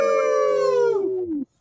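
Several people imitate a wolf howl together with their voices, a single sustained, loud howl that slowly slides downward in pitch before cutting off abruptly.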